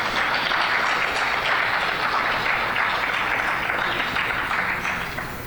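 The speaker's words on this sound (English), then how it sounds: "Let us give them a round of applause." Audience applause at a Labour Day gathering, a broad, even wash of many hands clapping that holds steady and loud, then eases slightly toward the end.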